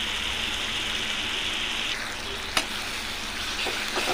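Ginger-garlic paste sizzles in hot oil with yogurt-based potato curry masala in a pan, a steady close hiss with a sharp spatter or clink near the middle.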